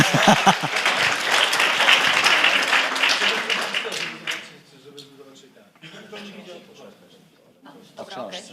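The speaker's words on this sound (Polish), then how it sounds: "są brawa" Applause from a session audience rings out loud and dense for about four seconds, then breaks off into scattered claps and murmuring voices near the end.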